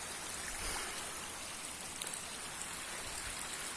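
Rainwater streams down a rock face in a downpour on a misty hillside, a steady close broadband wash of rushing, spattering water with no voices.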